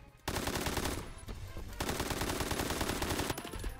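Dense automatic gunfire from the video game Phantom Forces, loud and continuous bursts with a short pause near the middle, nearly filling the whole stretch.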